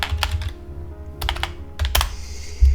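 Computer keyboard keys, including the Enter key, struck during a Windows 98 install on a modern PC. Crisp, close clicks come in short uneven bursts separated by brief pauses.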